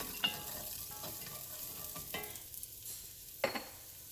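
Onions sauté with a soft, steady sizzle in a pan as a utensil stirs them around, giving several light scrapes and taps spread across the moment.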